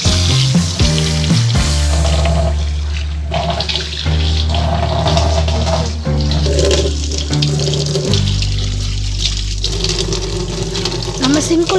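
Tap water runs steadily into a kitchen sink during washing after scrubbing, a loud continuous splashing rush that fills the whole span with shifting clatter beneath it.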